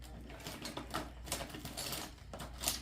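A knife cuts open a cardboard box, producing a run of scratchy, rasping strokes and tearing bursts at close range with no talking over them.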